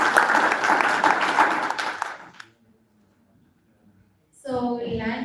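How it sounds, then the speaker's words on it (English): Conference audience applause after a panel, about two seconds of full clapping that fades into near silence, then a voice speaks. "Let's give them another round of applause."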